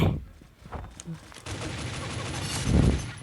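Bursts of gunfire from the video game Pixel Gun 3D, played on a workshop map, crackle as a loud rapid fusillade of sharp shots under a player's talking.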